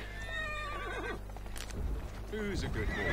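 A horse in the Assassin's Creed Syndicate video game whinnies and snorts, with hoof clip-clops and game ambience, and a person talks over part of it.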